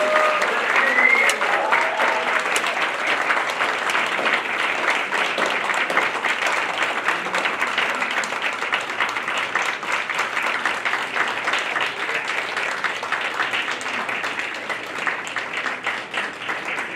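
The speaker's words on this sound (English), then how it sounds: "let's hear a big round of applause for Zhang Xie" Sustained, loud audience applause for Zhang Xie at the FAPA 40th anniversary celebration banquet. The dense, even clapping of a large room continues steadily for about seventeen seconds, tapering slightly at the close.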